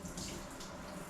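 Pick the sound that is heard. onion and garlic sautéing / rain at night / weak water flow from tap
weak water flow from tap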